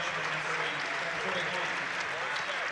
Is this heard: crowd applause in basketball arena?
yes